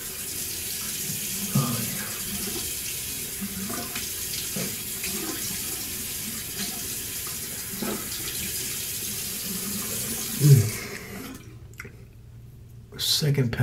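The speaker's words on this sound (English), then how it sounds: "after I wash my face off here" Tap water runs steadily into a sink while a face is washed, with soft splashes and a louder splash near the end before the flow stops.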